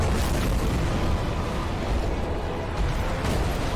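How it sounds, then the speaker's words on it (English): Boss dive bomb attack in a video game, a heavy rumbling explosive boom with crackling bursts that fills the clip loudly and continuously, with no clear voice over it. "So see, he has a more powerful dive bomb, but it is a little slower"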